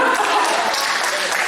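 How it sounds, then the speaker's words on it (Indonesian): A church congregation applauding together, a short burst of brisk clapping heard close and steady. "Kasih tepuk tangan."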